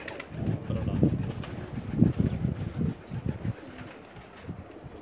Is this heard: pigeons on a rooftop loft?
yes